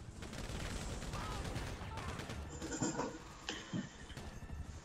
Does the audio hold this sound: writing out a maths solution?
no